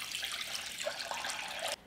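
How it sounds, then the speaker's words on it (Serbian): Hot water runs from a tap into a cooking pot, a steady close splashing rush that shifts in tone as the pot fills, then cuts off abruptly at the end. "Napunit ću šerpu sa vrućom vodom do visine poklopca"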